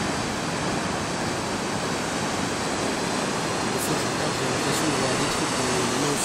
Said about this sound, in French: En fait, c'est des vagues qui se cassent dans l'océan.